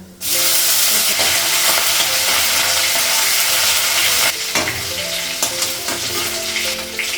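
Panch phoron, green chili and ginger paste fry in hot oil in a home kitchen, giving a loud, steady sizzle that drops slightly partway through, with some stirring and clinking over the hiss.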